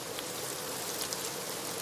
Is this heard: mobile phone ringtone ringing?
no